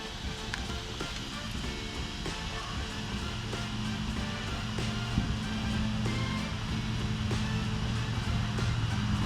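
A stretched Arrma Typhon RC car runs its electric motor in a steady, continuous whine and rumble with a faint rattle throughout.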